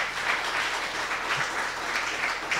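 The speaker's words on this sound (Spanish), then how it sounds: "Denle un aplauso al Señor." A church congregation applauds steadily, a dense wash of many hands clapping close and fairly loud throughout, with no talk over it.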